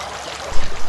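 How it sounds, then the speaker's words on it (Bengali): Water pours and splashes over feet during ritual ablution before prayer. A steady trickling wash is followed by louder splashing surges in the second half. No voices are heard. "পা ধোয়া।"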